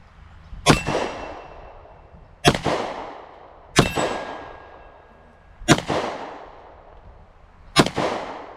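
Five single shots from a Taurus GX4 pistol, fired left-handed at steel targets outdoors, each a loud sharp crack with a ringing clang and trailing echo, spaced roughly one to two seconds apart, with no talking.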